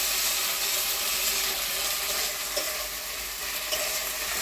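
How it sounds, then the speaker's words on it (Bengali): Boiled chickpeas sautéing in a pan for a potato and chickpea curry give a steady, bright sizzle with soft scraping stirs, constant and fairly close throughout, with no voices. "এবার একসাথে এই যে ছোলা দিয়ে দিচ্ছি"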